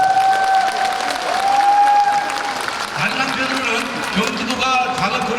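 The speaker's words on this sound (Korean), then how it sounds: "큰 박수 부탁드립니다." A seated audience at the opening ceremony of a disability organisations' festival in Bucheon breaks into sustained applause, rising after a spoken introduction, with a voice over a loudspeaker partly under it.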